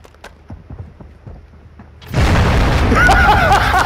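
In Call of Duty, faint scattered clicks and thuds give way to a sudden loud blast whose heavy, rumbling roar sustains for nearly two seconds, with higher whining tones rising over it.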